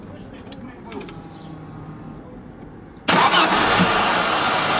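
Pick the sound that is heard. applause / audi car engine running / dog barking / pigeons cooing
audi car engine running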